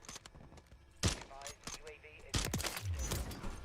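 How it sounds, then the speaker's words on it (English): Video game gunshots aimed at a vehicle's tires, heard as a scatter of short, sharp shots with two louder bursts, mixed with clattering game noise and a low rumble. "Trying to shoot out those tires."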